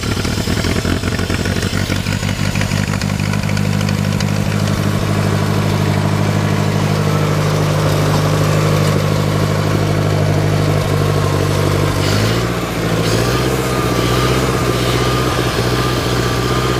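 An International Harvester 2504 tractor engine runs steadily, a loud close diesel-like drone that holds its pitch for a long stretch before dipping briefly near the end, with no voices.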